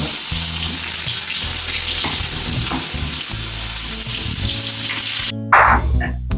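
Turmeric-coated eggplant pieces fry in hot oil with a steady close sizzle and crackle, then a sharp splashy burst near the end as the oil spits.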